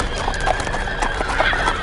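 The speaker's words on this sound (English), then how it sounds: "Sir, I hear horses coming down the road." Horses approaching down a road in the video game Brothers in Arms: Earned in Blood, with loud close clip-clop hoofbeats and brief whinnies running steadily throughout.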